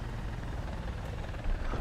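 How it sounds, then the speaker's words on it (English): A Mi-28 attack helicopter engine in the War Thunder video game, a steady droning rotor and turbine rumble nearby, constant and fairly loud with no voices. "Okay, so friendly Mi-28. Heard an engine noise to my right."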